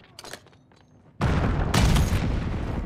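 Gunfire and explosions in the Black Ops 6 video game: a quiet stretch with a few faint pops, then a sudden loud burst of sustained shooting and booming blasts that continues densely to the end.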